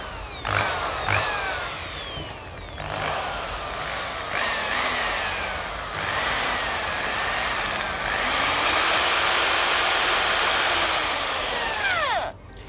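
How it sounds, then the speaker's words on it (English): A Bosch electric drill, freshly fitted with new carbon brushes, whirs up and down in short bursts, then runs steadily at high speed for several seconds before spinning down; close and loud. "So that's the sound of a new drill."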